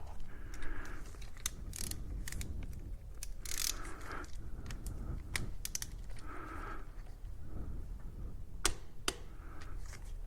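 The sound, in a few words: torque wrench tightening a bolt to 15 Newton meters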